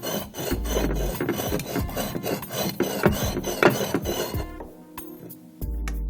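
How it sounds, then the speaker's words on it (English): Hard glazed ceramic scrapes and grinds against another glazed surface in rough, rasping strokes, close and loud, pausing briefly before resuming. "glaze scratching and grinding against the other part of the glaze"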